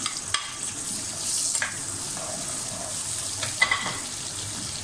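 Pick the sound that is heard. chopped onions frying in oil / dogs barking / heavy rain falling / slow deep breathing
chopped onions frying in oil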